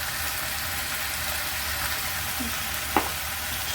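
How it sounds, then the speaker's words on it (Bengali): Chilli powder, coriander powder, salt and turmeric spice mix sautéing in a pan with a loud, steady close-up sizzle and one brief clink of a utensil near the end. "মশলাটা আবার আমি কষাবো।"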